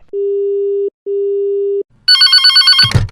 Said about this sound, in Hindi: Somebody is calling you.